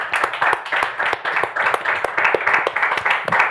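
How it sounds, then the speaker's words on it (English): Hands clap in a steady run of sharp, evenly spaced claps at close range, loud and continuous for several seconds with a faint murmur of voices underneath. "Big government clap."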